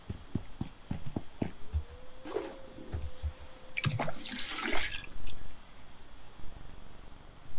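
Drinking water in the survival game Icarus: soft gulping, splashing and wet squelching sounds over a quiet game soundscape, building to a brief louder water rush near the end.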